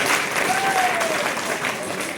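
An audience claps steadily at a product presentation, a dense wash of applause from a crowd that is close and fairly loud. A faint whistle-like tone rises briefly over the clapping.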